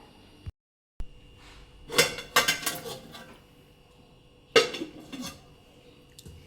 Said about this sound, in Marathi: झाकण काढून बघूया.